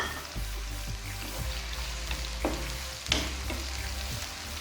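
Sliced onions fry in hot oil over a stove, crackling and sizzling steadily up close, with a few sharper pops and stirring scrapes mixed in.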